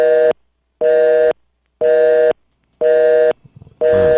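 Telephone busy signal on a radio call-in show after a caller drops, four loud steady tone bursts in an even on-off rhythm with a brief soft noise before the fifth begins.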